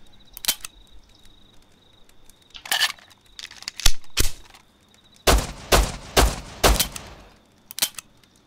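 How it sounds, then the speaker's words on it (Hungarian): Gunfire in the survival video game Rust, alpha version: a handful of sharp, loud shots, some single and one quick burst of four or five, spaced across the clip against a quiet in-game background with a faint steady tone. "Ó, hát szóval lehet lövöldözni."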